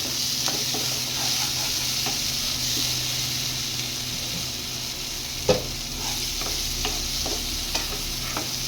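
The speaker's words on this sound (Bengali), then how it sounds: "এবার আমি এটাকে ভালো করে কষিয়ে নেব" Onions and spice masala for paneer sizzle steadily in hot oil, with occasional scraping and clinks of a spoon stirring the pan.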